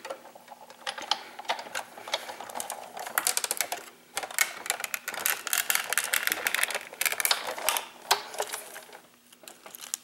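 A die-cutting machine cranks patterned paper through a butterfly Thinlits die, making a run of quiet, irregular clicks and ratcheting crackles with brief pauses, close by and with no talk.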